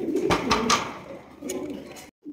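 A pair of large king pigeons, domestic pigeons offered for sale, coo in low throaty bursts, several rolling calls close by over a faint background hum, ending abruptly.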